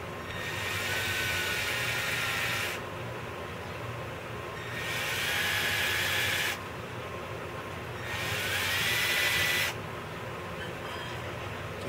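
A power drill bores a hole for a Dynamic Motorcycle Accessories backrest kit through a drill template, using a bit of about 3/32 inch, in three sustained whirring bursts with short pauses between them.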